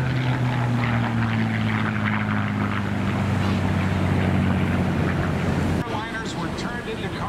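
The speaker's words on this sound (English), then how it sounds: "Following it, the North American advanced trainer, the Texan." North American Texan advanced trainer aircraft flying at an airshow, its radial-engine propeller drone a loud steady growl with a falling pitch as it passes, then fading abruptly, while a narrator talks over it.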